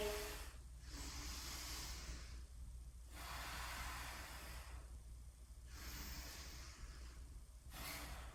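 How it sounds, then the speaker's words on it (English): Slow, deep breaths during a yoga flow, alternating long inhales and exhales in a quiet room, close and soft, with no talk. "Breathing deeply."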